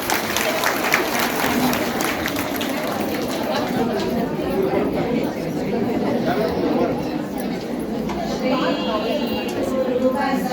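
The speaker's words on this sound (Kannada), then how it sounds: "ಮತ್ತೊಮ್ಮೆ ಜೋರಾಗಿ ಚಪ್ಪಾಳೆ." An audience claps loudly and continuously at a Rudra Balaga group performance finale in Dharwad, with dense applause mixed with crowd chatter and voices throughout.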